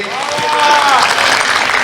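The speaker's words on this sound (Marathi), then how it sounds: "एकदा जोरदार टाळ्या" An audience claps loudly and steadily for about two seconds at a university dance event, and a voice speaks over the start of the applause.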